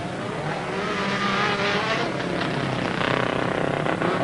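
A Mini rallycross car blasts through a cutting at a rallycross circuit, a loud sustained engine roar with a raspy, buzzing exhaust note that holds steady and swells slightly toward the end, with faint commentary underneath.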